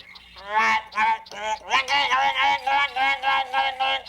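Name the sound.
duck call imitated with the fingers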